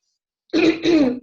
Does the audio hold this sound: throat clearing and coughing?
yes